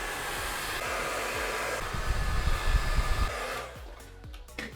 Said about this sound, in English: The next thing is I need to blow dry the sides of my hair so that I can start cutting the sides.